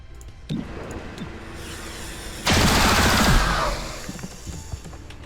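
Gunfire in the XCOM: Chimera Squad video game comes as a loud, sustained burst of rapid automatic shots over a steady game ambience, preceded by a single thump.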